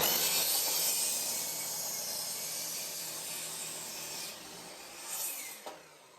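A saw cuts through pressure-treated 4x4 lumber outdoors for a raised garden bed, a continuous loud hissing rasp that holds steady and then eases off near the end, close up with no voices.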